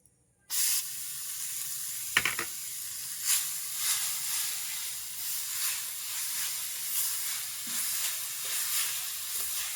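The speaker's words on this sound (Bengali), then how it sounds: "চিনিটা নেড়ে দিচ্ছি এর মধ্যে নারকেল কোড়াটা দিয়ে দিচ্ছি" Sugar being stirred with grated coconut in a hot pan gives a steady sizzling hiss throughout, with a few scraping clatters of the spoon near the start.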